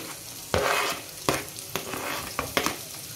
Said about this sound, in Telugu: కొన్ని జీలకర్ర వేసుకొని కట్ చేసుకున్న ఆనియన్స్ని బాండీలోకి వేసేయాలి.